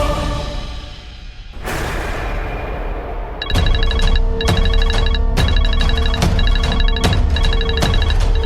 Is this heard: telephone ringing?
yes